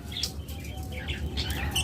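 Budgerigars, kept as breeding pairs with eggs and chicks, chirp in a steady chatter of short, high tweets over a constant low hum, fairly close and busy throughout.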